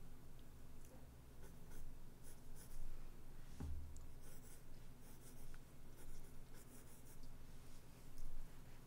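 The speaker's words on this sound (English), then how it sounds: "Would you guys like to see my my sketching" A pencil sketching on paper, producing steady close scratching and rubbing strokes in quick irregular bursts, quiet, with one brief dull knock partway through and no voices.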